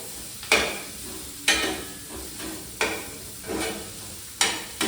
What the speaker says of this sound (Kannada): ಹಸಿರು ಮೆಣಸಿನ್ಕಾಯಿ ರುಬ್ಬಕ್ಕೆ ಹಾಕ್ಕೊತಾ ಇದ್ದೀನಿ ನಾನು. ಇಷ್ಟನ್ನು ಚೆನ್ನಾಗಿ ಫ್ರೈ ಮಾಡ್ಕೋಬೇಕು.